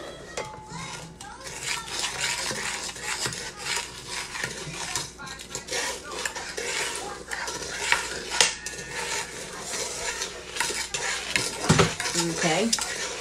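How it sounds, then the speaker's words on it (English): A wooden spoon scrapes and sloshes steadily through a homemade ice cream mixture in a bowl, close and continuous, with clinks and some background voices, including a child's. "Stir that around so you can kind of incorporate this all."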